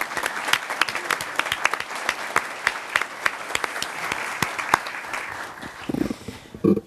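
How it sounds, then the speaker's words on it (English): An audience at a Camarillo city council meeting gives a scout troop a round of applause, a steady clatter of many hands close by that thins out and stops near the end. "Let's give them a round of applause."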